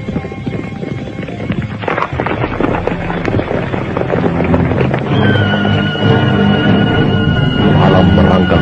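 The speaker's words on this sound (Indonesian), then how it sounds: "mereka pun sudah berkuda menuju istana Kapopongan" Horses galloping and neighing as an effect in an Indonesian audio drama, loud dense hoofbeats with repeated whinnies rising over a busy layered backdrop throughout.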